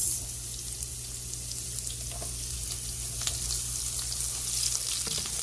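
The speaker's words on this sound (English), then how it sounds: "I usually fry or stir fry them together, and then our onions." Onions, garlic and ginger stir-frying in a pan for a ground pork and green bean dish, a steady soft sizzle under faint clinks and a low constant hum, without talk.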